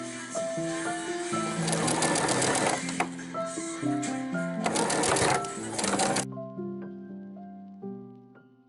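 Sewing machine stitching lace onto polyester ribbon in a steady, rapid mechanical whir for about six seconds, then stopping, with soft background music playing throughout.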